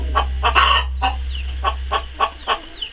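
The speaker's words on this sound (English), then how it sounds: "There's a lot of noise out here as you can hear with the chickens." Broiler chickens cluck in a rhythmic series of short calls inside a chicken coop, close and fairly loud over a steady low hum, with no talk.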